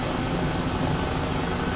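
Airbus H135 helicopter engine and rotor running at high throttle, around 80% power, in Microsoft Flight Simulator 2020, a steady loud broadband roar with constant rotor drone and no voices.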